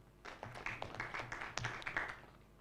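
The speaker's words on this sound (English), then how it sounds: "Please clap for them." Applause from a conference audience, a steady patter of many hands clapping at moderate volume for a few seconds, slightly distant in the hall with no talk.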